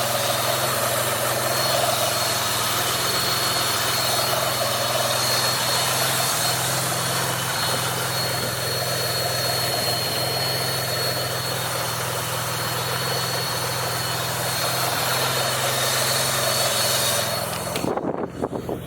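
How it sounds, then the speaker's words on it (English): Mitsubishi GTO engine idling with a steady high whistle, a suspected boost leak, over a constant low rumble, recorded close and loud with no talk until a brief disturbance at the very end. "So there's a kind of a whistle going on."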